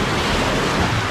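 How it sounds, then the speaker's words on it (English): Ocean waves surging into a small sea cave on a sea glass beach, a loud, continuous roaring wash of surf with rushing wind noise on the microphone. "Get some big waves going up in it"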